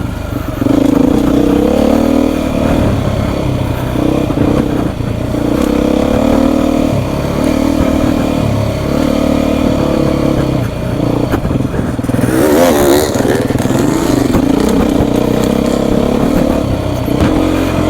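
Beta off-road motorcycles ride and rev close by, their engines droning steadily throughout with a brief harder surge of revving and some rattling clatter, with no talk.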